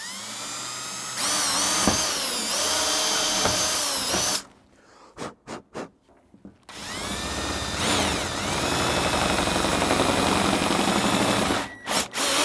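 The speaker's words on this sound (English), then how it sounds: "as long as you're drilling on your holes that you're marked and you're staying perpendicular to the rack itself, straight through the roof" A power drill boring holes through the roof of a Jeep JL for a roof rack, loud and close with a high whine, cutting out into short bursts midway before a long steady run.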